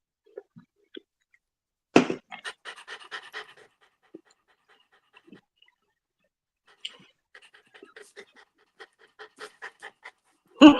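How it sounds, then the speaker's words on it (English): A dog pants in rapid, rhythmic bursts nearby, with a couple of sharper breathy gusts and short quiet gaps between runs of panting. "Who's over there panting like that?"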